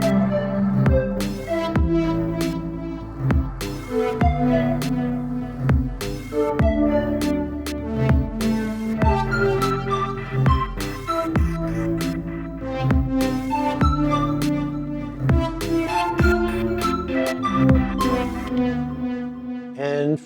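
Elektron Digitakt 2 drum machine plays two patterns with sample effects including sample rate reduction: a steady, loud groove of punchy kicks and sharp percussive hits over sustained melodic tones, running continuously without talk.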